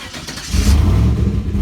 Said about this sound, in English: So we get the car to the dyno